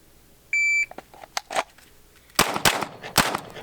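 A shot timer gives one short electronic beep, then after a pause sharp gunshots crack close by during a police trigger pull test, two loud reports near the end with smaller clicks between.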